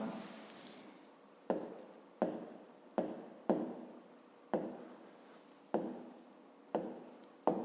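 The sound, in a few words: writing down the volume of a reservoir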